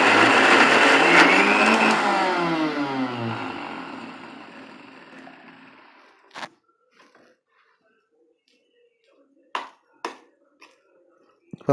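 A kitchen mixer grinder whirs loudly with its small jar grinding coconut chutney, the motor winding down after about six seconds, followed by a few sharp clinks and taps of the jar.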